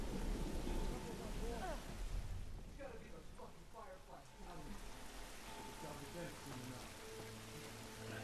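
Steady rain falls with rumbling thunder in The Last of Us video game, while a person talks over the storm.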